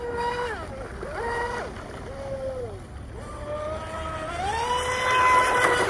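RC Oxidean Oxi-digger 34-inch wood outrigger boat running on water, its high electric whine rising and falling with throttle changes over a steady wash of water noise, fairly close.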